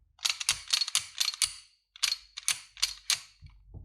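Sharp metallic clicks and clacks of a TİSAŞ ZİG 14 pistol slide being racked repeatedly, in two quick bursts of several clicks each, close and crisp.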